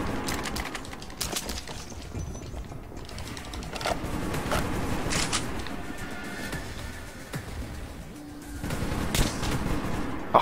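Gunfire in the Metro video game comes as short, sharp shot bursts scattered over a dense, rumbling game soundscape. It stays fairly loud and has no speech over it.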